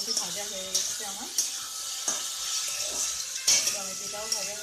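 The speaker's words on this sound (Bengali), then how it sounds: "ঝিঙে আলু মোটামুটি ভাজা হয়ে গেছে আমার।" Ridge gourd and potato pieces fry in a pan for a traditional Bengali jhinge aloo posto, with a steady sizzle broken by repeated stirring scrapes and light utensil clinks against the pan.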